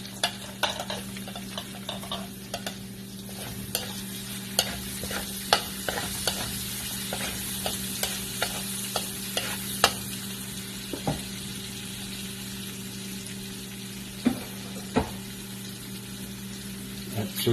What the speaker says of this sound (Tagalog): Lalantayin lang natin yung bawang natin.